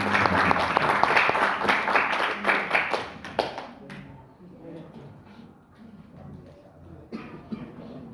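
An audience at a provincial Qur'an quiz contest claps for the contestants: dense, lively applause for about four seconds that fades out, followed by quieter room sounds and a brief return of a few claps, with a voice speaking over it.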